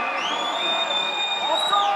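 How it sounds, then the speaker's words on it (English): Home crowd at a Colorado Raptors rugby match cheering and whooping steadily in the closing seconds, a dense roar with shrill whistles and shouts rising above it. "The crowd willing the home side on."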